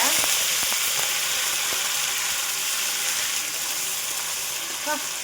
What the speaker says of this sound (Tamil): இது வந்து நான் தான் இப்போ வதக்கிறேன்